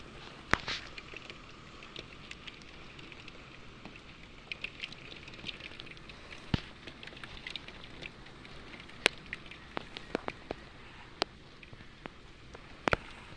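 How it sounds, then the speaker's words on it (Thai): Heavy rain patters on a surface in Nong Mai Daeng, Chonburi, Thailand, with sharp drops and clicks scattered over a constant wash of falling water. "หรือว่าฟังเสียงฝนนะครับ"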